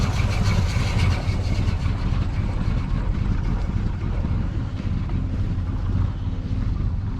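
A 1987 Squarebody truck idling in place, a steady low engine rumble beneath heavy wind noise and outdoor hiss, continuous throughout with no revving.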